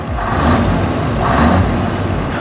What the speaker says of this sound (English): a couple of more hoots of the horn and a rev of the engine